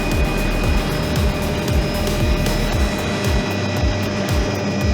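A helicopter flying over Oahu, with rotor blades thudding in a fast, regular rhythm and a strong engine whine, loud and close throughout, heard from inside the cabin.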